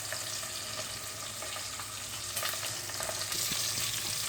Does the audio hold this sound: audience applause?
no